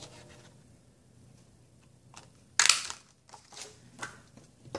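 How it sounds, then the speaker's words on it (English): Paper punched with a 1-inch circle punch during card making: one sharp crunching snap stands out, followed by a few softer rustles and clicks of handling paper in a quiet room. "And then that will be punched out with the 1-inch circle punch."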